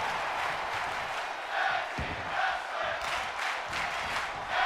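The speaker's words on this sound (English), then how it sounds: "This Orlando crowd on their feet chanting for tag team wrestling." Wrestling arena crowd in the WWE MyGM mode game, a rhythmic swelling chant from many voices at a steady mid distance, rising and falling in regular pulses with no one speaking over it.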